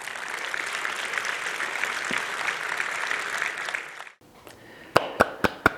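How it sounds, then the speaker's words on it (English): Audience applause for a conference speaker at a Vue.js event in Amsterdam, steady dense clapping for about four seconds, then a sudden drop to a few loud, separate claps near the end. "Big applause for Justin."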